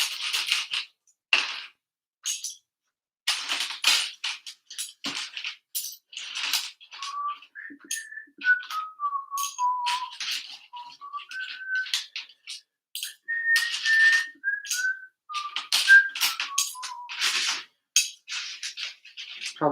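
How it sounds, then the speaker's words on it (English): A person whistles a wandering melody with clear, sliding notes, heard close by over constant clicking and clattering of Lego bricks being sorted by hand, with no talking. "Probably shouldn't whistle"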